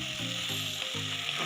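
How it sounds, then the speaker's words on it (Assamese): Tomato frying in a pan, a continuous bright sizzle with faint stirring scrapes underneath, close and steady throughout with no voices. "বিলাহীটো যাতে সিজি যায় তেতিয়ালৈকে আমি ভাজি থাকিম"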